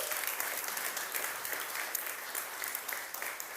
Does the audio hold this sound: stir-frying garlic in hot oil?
no